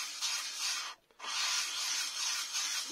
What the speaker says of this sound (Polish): I tak szlifujemy, aż będziemy mieli ten element w miarę gładki.